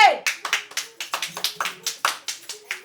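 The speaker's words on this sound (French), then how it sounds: "Applaudissez!" Sharp, distinct claps at a festival awards event, about a dozen in quick, fairly regular succession, sounding like a small group or a few hands rather than a full crowd, with faint voices underneath.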